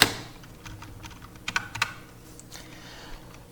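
Keys clacking on a computer keyboard while code is written, a handful of sparse, fairly quiet taps with two sharper clusters near the middle, close by and with no voices.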